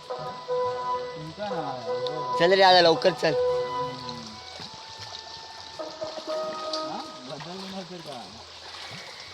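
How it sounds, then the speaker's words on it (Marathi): Monsoon rain falls steadily in a Konkan village, a constant soft hiss running under a voice as people talk nearby. "आज सकाळपासून पाऊस जास्त असल्यामुळे"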